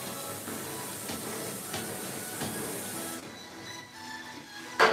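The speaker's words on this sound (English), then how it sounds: "Time to hit it with some of this full synthetic chain lube." Full synthetic chain lube sprayed onto a bicycle chain, a close steady aerosol hiss lasting about three seconds, then quieter handling noise.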